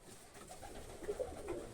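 Budapest and Zamojski show pigeons cooing softly in a breeder's loft, a few low, faint murmuring coos close by in a quiet room.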